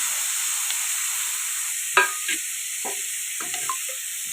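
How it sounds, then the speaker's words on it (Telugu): Raw snails stirred into frying masala in a pan for a Kakinada-style snail curry, with a few scraping stirs over a steady, soft sizzle. "ఇవి ఈ మసాలాలు బాగా పట్టేలాగా కలుపుతున్నా"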